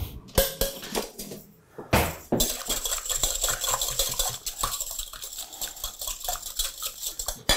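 A utensil clinks and scrapes against a bowl in quick, uneven strokes while a buttermilk liquid mixture is stirred, close and fairly loud, with no talk.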